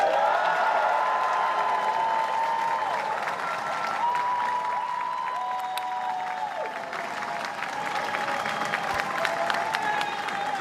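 Sustained applause from a waiting crowd in Downing Street greeting the new Prime Minister, steady clapping with scattered cheers throughout, fairly close and even in level, with faint overlapping voices underneath.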